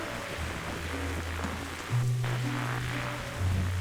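Steady rain hiss from The Darkside Detective video game, a broad constant wash of falling rain under low droning music tones, with no talking.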